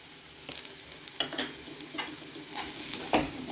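Spiced cassava being stirred in a hot pan: scraping spoon strokes against the pan over a soft frying sizzle, several uneven strokes close up.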